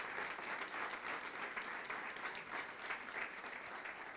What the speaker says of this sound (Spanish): Dele ese aplauso al Rey de Gloria.